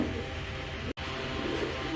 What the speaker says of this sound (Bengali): রানিং এক পেয়ার কবুতর, হ্যাঁ, দেখার মতো দেখেন